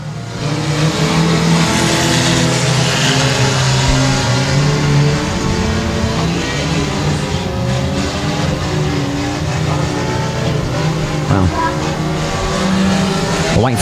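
Race cars roar around a dirt track during a heat race at Timberline Speedway, engines loud and sustained with revving and tire noise, cars passing close throughout.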